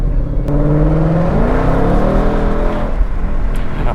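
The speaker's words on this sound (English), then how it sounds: "I love the sound and the spool of this supercharger." A supercharged Shelby Mustang, GT350R or GT500, accelerates under light throttle, its engine note rising loud and close with a whining spool over the rumble.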